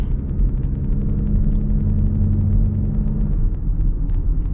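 A 2025 Mazda CX-50 Hybrid base model, running a Toyota hybrid powertrain with an eCVT, gives a steady, loud engine drone with a low rumble. It holds an even pitch throughout with no talking.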